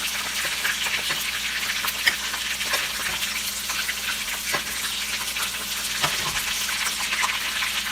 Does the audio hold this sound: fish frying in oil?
yes